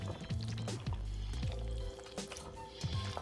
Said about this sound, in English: what I'm going to do is pour this in the casserole dish